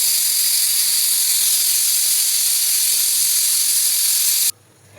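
A pot of eggs boiling on a gas flame gives off a loud, steady hiss of steam that runs unbroken, then cuts off abruptly just before the end.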